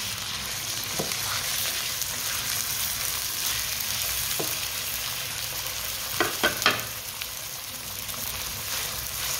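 Boneless chicken pieces fry with onions in a pan, giving a steady loud sizzle throughout with a few brief stirring clicks and scrapes near the end, and no voices.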